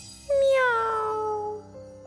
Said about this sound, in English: The third leopard cub cried pitifully.